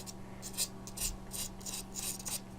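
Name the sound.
chalk rubbed onto a bumpy pool cue tip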